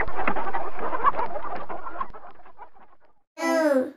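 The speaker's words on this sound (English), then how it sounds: "H for hen." Hens cluck in a busy, continuous stream that slowly fades, then one louder drawn-out squawk rings out near the end.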